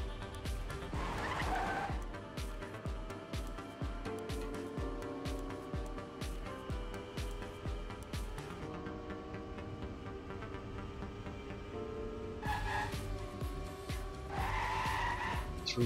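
Race cars in a racing video game: continuous engine drone with repeated tire squeals and skidding, several cars roaring past in quick succession, loud and sustained without any talk.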